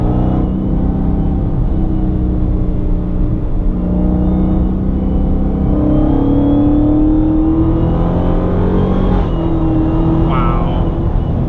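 A lowered 2020 Dodge Charger Hellcat Widebody engine in sport mode, heard from inside the car, gives a loud continuous drone whose pitch climbs and settles as it revs, with a voice talking over it.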